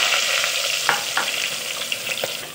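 Chopped onions frying in hot oil with mustard seeds and fenugreek for a Tamil dry fish curry: a close, steady sizzle with scattered sharp crackles and pops, no voices.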